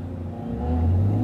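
A Ferrari 458 Spider idles and creeps forward to the start line at the Goodwood Festival of Speed hill climb, a loud, close, low engine rumble that swells slightly as it moves.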